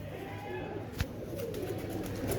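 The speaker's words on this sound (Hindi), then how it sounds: "ये ओरिजिनल कबूतर है।" Pigeon cooing from an original old-breed Teddy pigeon, a low soft coo repeating over steady background noise with no speech.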